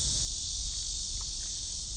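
Cicadas drone in a loud, steady high-pitched buzz that runs without a break through the whole stretch, heard outdoors during a summer neighborhood walk in Songdo.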